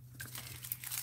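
Aluminium foil being cut from a roll with scissors, a quiet, close series of crinkling and tearing rustles with a brief snip early on.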